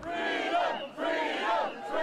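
Fans of Novak Djokovic celebrate in a large crowd outside his lawyer's office in Melbourne, a dense roar of cheering and chanting voices swelling in two loud waves over two seconds.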